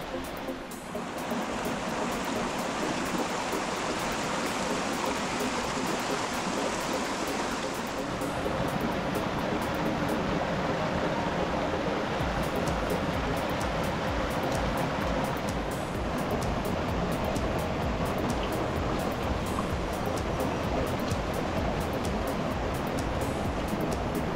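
Creek water in a sandstone canyon on the Newnes Plateau, Blue Mountains, flowing and splashing steadily in a dense, continuous rush close by with no talk.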